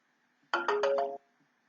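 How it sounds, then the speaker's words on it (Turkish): A phone ringing with a short, loud electronic chime of four quick tones in a rising then steady pattern, close and alone against a faint background hum. "Evet benim susmak bilmeyen telefonum."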